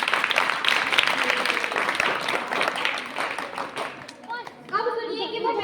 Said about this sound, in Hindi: पहले उनका अभिवादन तालियों के साथ करिए जिन्होंने इन पंक्तियों को गाया है